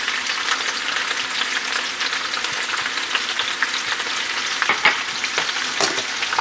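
Steak fries in lard in a skillet with a sprinkled oregano and thyme mix, giving a steady close crackling sizzle with scattered sharper pops, heard alone without talk.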